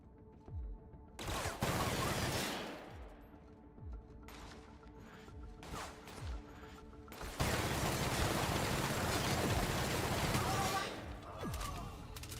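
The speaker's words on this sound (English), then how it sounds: "Who's shooting you?" Gunfire in The Outer Worlds, with repeated sharp shots and sustained bursts of rapid fire, some close and loud, alongside game noise and faint talk.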